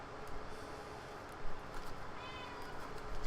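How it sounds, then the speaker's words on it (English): A cat meows faintly a few times in a quiet room, its calls brief and distant against steady background noise. "That's all it does is just meows."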